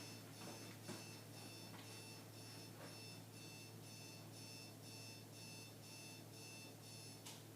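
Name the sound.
alarm going off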